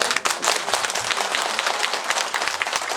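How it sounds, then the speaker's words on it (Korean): Dense applause from a lecture audience at the close of a Buddhist Diamond Sutra talk, steady and fairly loud throughout with no voices over it. "여러분 다시 한번 큰 박수로"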